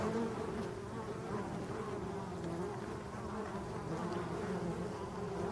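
Honeybees buzzing steadily around several hives at the forest edge, a dense continuous hum heard up close with no voices.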